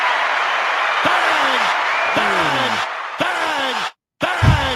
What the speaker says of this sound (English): I'm gonna give you a round of applause.